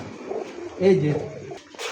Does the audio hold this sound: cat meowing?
no